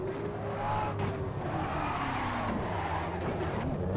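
A car sliding on a Shuto expressway in the Assetto Corsa racing game, engine droning steadily while tires squeal and whine in long drawn-out slides, close and continuous with no talking.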